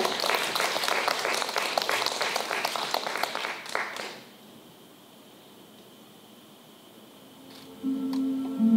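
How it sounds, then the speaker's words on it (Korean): Brief applause from a poetry-reading audience welcoming a reader, clapping for about four seconds before cutting off into quiet room tone, then a voice begins. "박수 부탁드립니다"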